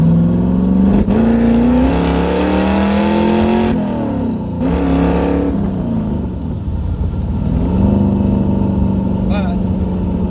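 A car engine pulls at wide open throttle after a long throttle cable adjustment, its loud in-cabin drone rising in pitch through gear changes, with a voice talking over it.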